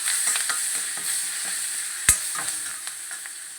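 Curry leaves and finely chopped green chilies fry in a pan, giving a steady soft sizzle with occasional light stirring scrapes and one sharp clink, close and alone.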